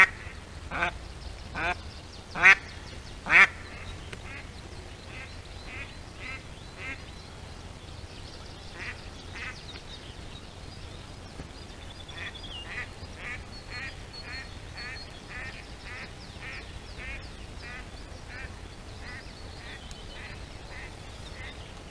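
Live decoy duck quacking repeatedly during a spring drake hunt at season's close, a few loud calls early then a long steady series of quacks at moderate distance, with no talk.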